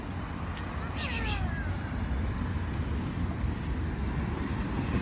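A cat meows once, a short rising-falling cry over steady wind rumble and outdoor background noise.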